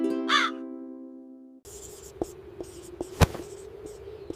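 A crow gives a short, loud caw in a children's animated fable, followed by a quieter stretch of soft rustling and light taps with one sharp click near the end.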